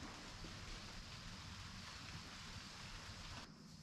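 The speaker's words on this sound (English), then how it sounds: "it's starting to rain a little bit." Light rain falls outdoors as a steady, even broadband patter that runs throughout with no voices, dipping slightly in level near the end.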